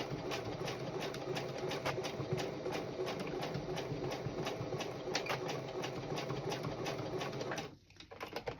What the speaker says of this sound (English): coming to the part where I'm going to be sewing over that snap tab